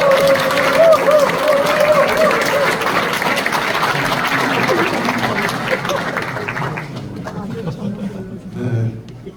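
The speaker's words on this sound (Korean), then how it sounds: "큰 박수로 모시겠습니다" Applause and crowd noise greet a guest actor being introduced at a church dedication and founding service, steady clapping filling the room for several seconds, fading as a voice begins speaking.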